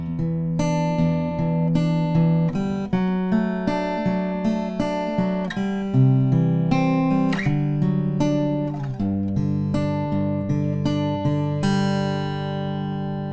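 Guitar picks the second line of a tab in a steady fingerpicked pattern, each note ringing out in a repeating rhythm, played close and alone with no talk.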